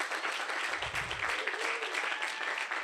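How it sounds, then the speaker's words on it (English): Applause from staff and families at a My Academy graduation ceremony, a continuous wash of distant clapping from a large hall, even in level throughout. "give yourselves a round of applause for your contributions to their success"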